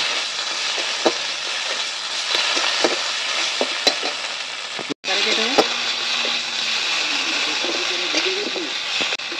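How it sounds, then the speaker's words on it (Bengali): A spice paste with sugar for Bengali shukto is stir-fried in a pan, giving a steady close sizzle with scraping stirs and a brief dropout midway. A voice speaks over parts of it. "চিনিটা দিয়ে ভালো করে মশলাটা কষে নেব।"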